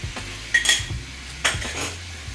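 Shrimp with pineapple being stirred in a pan for sweet and sour shrimp: a couple of sharp metal utensil scrapes and clanks against the pan, with quieter scraping between them.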